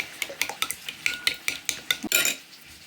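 A utensil stirs wilting spinach in a pan, making a steady series of quick scraping clinks against the metal, ending in a longer scrape, close and clear with no talk.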